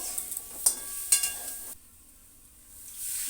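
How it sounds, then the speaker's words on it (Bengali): Potatoes tipped into a pan of cooked-down spice paste, close-up clatter and scraping stir with a couple of sharp knocks, then a steady soft sizzle after a brief quiet gap. "এবার আলুগুলো ঢেলে দেব ঢেলে দিয়ে কষিয়ে নিয়ে জল দেব"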